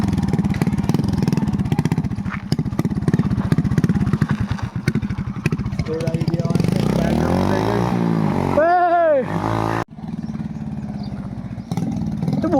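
A motorcycle engine runs close by at a rough, rapid idle, then slows and sputters before a brief cut-out and restart, loud throughout.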